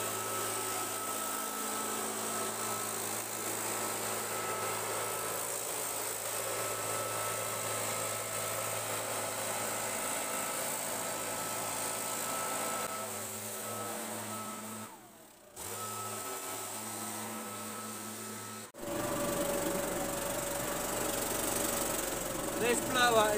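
A blower runs continuously with a loud, steady roar close by, briefly dipping and cutting out twice before resuming at full strength.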